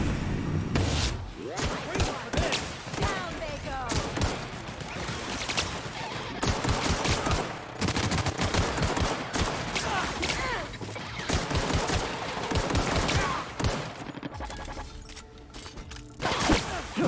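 Pistol shots in The Outer Worlds ring out in quick repeated volleys, loud and close, alongside scattered game impacts and someone talking over the gunfire.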